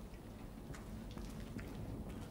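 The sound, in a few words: rain in the video game Detroit: Become Human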